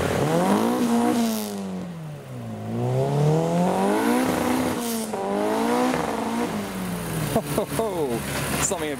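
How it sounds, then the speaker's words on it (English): A turbocharged Honda-engined Mini drives away from a car show, loud and near, revving up and down through a few gears, with a clatter of sharp transients as it pulls off. "The Honda Turbo Mini leaving the show."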